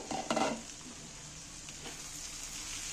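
Egg and potato curry sizzling in a pan, opening with a brief clatter of stirring against the pan, then a soft steady sizzle continues underneath, close and quiet.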